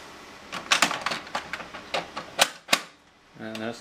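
A duplexer unit snaps into the back of an HP OfficeJet Pro 8500A printer with a run of close plastic clicks, rattles and knocks, ending in a firm snap, and a brief voice at the end.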